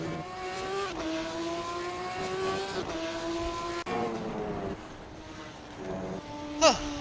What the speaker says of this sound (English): a lot of cars out on track